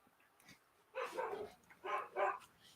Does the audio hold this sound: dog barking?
yes